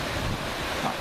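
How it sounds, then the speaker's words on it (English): Waterfalls on the approach to Haweswater give a steady, broadband rushing roar heard close by, with wind buffeting the microphone and no voices. "Just found these lovely set of waterfalls."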